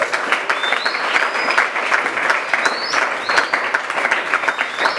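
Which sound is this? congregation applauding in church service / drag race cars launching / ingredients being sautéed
congregation applauding in church service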